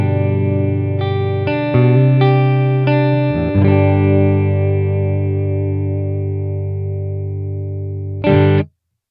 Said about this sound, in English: here is the sound of my amp that I've profiled. Same sound that's in the Quad Cortex and the Kemper.